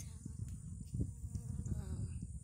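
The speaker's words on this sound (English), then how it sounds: "Right here is one bee." A single bee buzzes faintly among the blossoms of a flowering Tropical Snow peach tree, its soft drone nearly buried under steady low outdoor rumble and handling noise.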